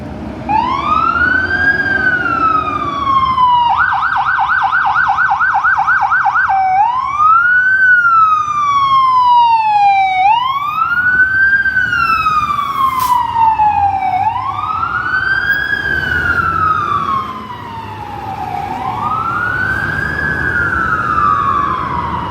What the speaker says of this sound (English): There's got to be a fire truck about to come out.